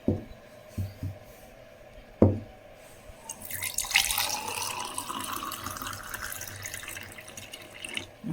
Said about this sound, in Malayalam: നമുക്കിതിന് ഗ്ലാസ്സിലേക്ക് ഒഴിക്കാം.